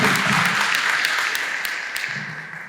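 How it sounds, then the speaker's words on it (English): A crowd applauds, many hands clapping in a dense burst that slowly fades over a few seconds. "Round of applause for Dr. Brook for his amazing perspective."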